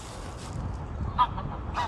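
A cartoonish goose honks in a video game, a couple of short nasal honks popping up over a low rumbling background, close and moderately loud with no talking.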